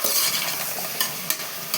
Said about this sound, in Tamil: காய்க்கு தேவையான அளவுக்கு உப்பு சேர்த்துட்டு நல்லா கலந்து விட்டுக்கலாங்க